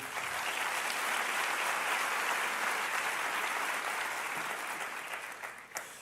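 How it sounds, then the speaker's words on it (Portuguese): Church congregation applauding at a Brazilian worship service, a sustained, even roar of many hands heard from a distance, fairly quiet, thinning slightly near the end. "Você pode aplaudir ao Senhor."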